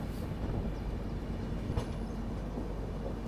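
An express passenger train rumbles steadily across the Malviya road-cum-rail bridge over the Ganges at Varanasi, a dense continuous low roar of wheels and carriages heard from on board, with no voices.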